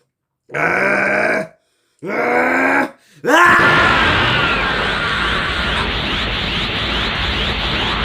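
A voice imitates a strained, pained Dragon Ball Z fighter groan in two short bursts, then lets out a long, loud, gravelly yell that trails on.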